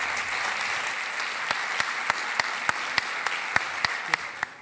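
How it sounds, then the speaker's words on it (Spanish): Audience applause at an award ceremony for the Magallanes en 100 Palabras short-story contest, a steady, dense clapping from a crowd that carries on for several seconds, with sharper individual claps standing out near the microphone. "Por favor, un aplauso grande para ellos"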